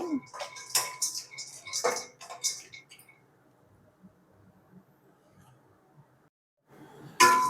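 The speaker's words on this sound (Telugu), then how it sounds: "ఒట్టి జీడిపప్పు వేయించుకుందాం." Cashews dry-roasting in a kadai without oil give a few bright clinking, clattering bursts early on, then fall to a faint low rustle, with one more sharp clatter at the end.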